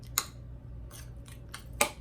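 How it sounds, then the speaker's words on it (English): Kitchen scissors snip through soft keto lasagna noodles in a home kitchen. Short, crisp cuts sound close by, with two sharper snips and a few lighter ones spread across a couple of seconds. "I just cut them with my kitchen scissors"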